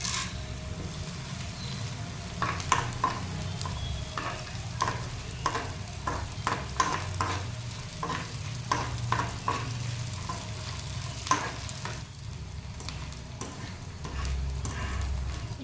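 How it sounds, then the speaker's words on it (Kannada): Edible gum frying and puffing up in hot oil, a steady bubbling sizzle with a run of quick crackles and stirring taps through the middle, close and moderately loud. "ಎಣ್ಣೆ ಬಿಸಿ ಆಯ್ತಂದರೆ ಅಂಟು ಹಾಕಿದ್ರೆ ಈ ಥರ ಪುರಿ ಥರ ಊದ್ಕೊಳ್ಳುತ್ತೆ."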